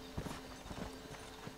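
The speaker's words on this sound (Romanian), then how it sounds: "Hai să vedem căluțul nostru unde e." Horse hooves clip-clopping in GTA 5, a quiet uneven trot of hoofbeats on hard ground, faint and distant-sounding with no talk over it.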